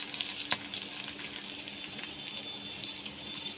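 Garlic, cumin and dried red chillies frying in leftover pointed-gourd frying oil, a soft continuous hiss with a few crackling pops near the start, fairly quiet and steady.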